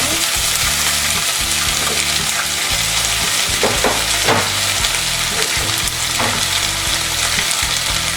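Cardamom pods, cinnamon sticks, bay leaves and onion sizzling loudly in hot oil for beef tehari, with steady frying hiss and a few clattering stirs of a spoon in the pot.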